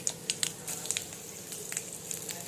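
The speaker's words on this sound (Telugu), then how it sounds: "తాలింపులో అల్లం వెల్లుల్లిపాయ, ఎండుమిర్చి, కరివేపాకు, తాలింపు గింజలు వేసేసి తాలింపు పెట్టుకున్నాను" A quiet tempering crackles in a pan: ginger, garlic, dried chilies, curry leaves and seasoning seeds fry for pesara pappu charu, with a soft continuous sizzle broken by scattered sharp pops.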